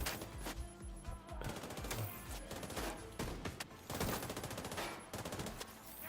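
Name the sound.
gunfire in video game The Division 2, Super 90 shotgun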